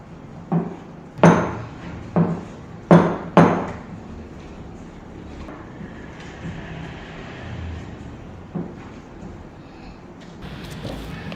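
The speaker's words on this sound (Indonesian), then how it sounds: "Kita ulenin sampai halus lah ya, seperti biasa ya." Dough being kneaded by hand on a table, a run of sharp slapping thumps in the first few seconds, then softer rubbing and pressing under a quiet background.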